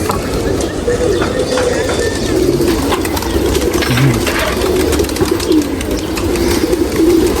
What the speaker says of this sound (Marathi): किती कबूतर आहे खुल्ले कबूतर